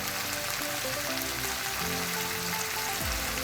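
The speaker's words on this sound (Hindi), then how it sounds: "ये देखें ये कीमा हमारा भून रहा है।" Minced meat fries in a pan with ginger, garlic and crushed red chilli, giving a dense, continuous close sizzle with a fine crackle that stays even throughout.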